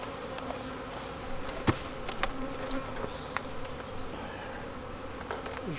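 Honeybees buzz steadily around open hives during spring hive work, a dense continuous drone with occasional closer individual bees flying past, no voices.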